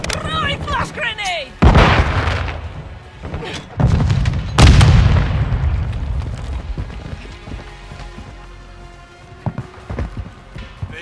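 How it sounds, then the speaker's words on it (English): A flash grenade goes off in Call of Duty: Modern Warfare II, a sharp loud bang cutting through other explosive booms and gunfire. Ringing tones and scattered game sounds follow as the burst fades. "And a throwing flash grenade!"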